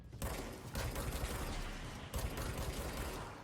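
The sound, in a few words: gunfire from the video game Control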